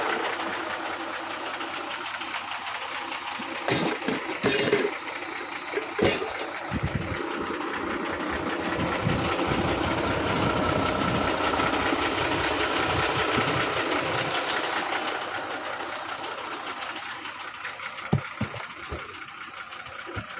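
A vehicle engine idles steadily after a self start, a continuous broadband mechanical hum with a few sharp knocks and clatters early on, running throughout at moderate level.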